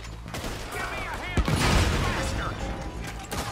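Gunfire in Red Dead Redemption 2: a cluster of sharp shots and a heavy blast in the middle, with mechanical clatter around it, heard under talk.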